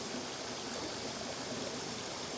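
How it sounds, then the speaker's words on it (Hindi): Natural water runs steadily downhill in a stream, a constant, full rushing and trickling wash that fills the whole clip and stays close and even, with no talking. "अब ये पानी चल रहा है"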